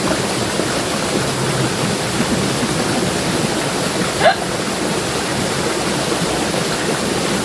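River water flowing steadily while clothes are washed by hand at the riverbank: a constant loud rushing wash with no pauses, and one brief faint knock partway through.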